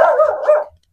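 Pet dogs at a small house bark, one sharp close bark trailing into a second quick yelp, loud and brief before silence.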